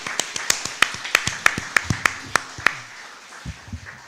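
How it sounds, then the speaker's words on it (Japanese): A congregation claps during a Sunday church service in a sparse, uneven rhythm of about a dozen sharp claps that fade to a few soft bumps at the end. "互いに拍手しながら励ましましょう"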